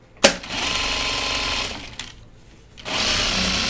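A sewing machine stitching fabric handles for a laundry basket: a steady close whirring run, a brief pause with a click, then the motor starts up again and keeps running.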